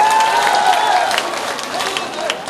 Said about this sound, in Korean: 격려의 박수를 보내주시기 바랍니다.